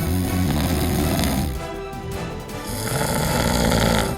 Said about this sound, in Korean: 심야의 불청객 코골이